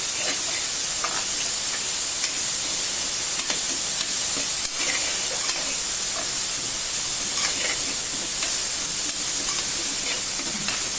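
Ginger-garlic paste sizzles and hisses steadily in a hot pan for a mixed vegetable sabzi, a dense, continuous frying crackle with occasional small pops and stirring clatter, close and loud with no voices.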